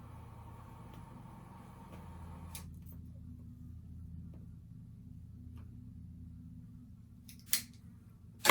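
A cigar tip is snipped with a cutter, giving one crisp, brief snap near the end, with a second sharp click right after over a low, steady background hum.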